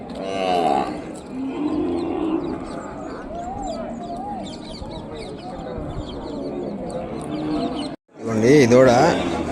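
Ongole bull calf of a heavy, strong-boned show breed gives several drawn-out moos, close and loud, with people talking around it and a short gap before a final loud call.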